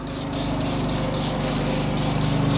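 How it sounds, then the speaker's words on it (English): Upholstery cleaner sprays inside a Land Rover Discovery through a Kranzle Ventos and Tornador Z020 air-powered cleaning gun, a close, steady hiss pulsing in quick regular bursts over a droning compressor hum. "I'm just going to spray a little bit in the back now."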